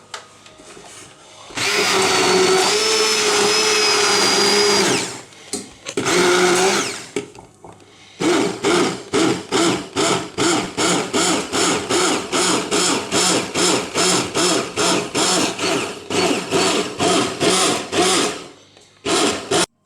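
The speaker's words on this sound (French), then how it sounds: "On va mixer à l'intérieur, tout ça." A kitchen blender whirs loudly as it purees fresh mint into a mixture for a mint ganache, running in a long steady burst, then a shorter one, then a series of rapid rhythmic pulses.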